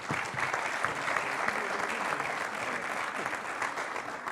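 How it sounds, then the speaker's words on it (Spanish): A seated audience claps for a speaker on a sustainable development business panel, a continuous dense round of applause holding steady from start to finish with no voices over it. "Un aplauso para Roberto."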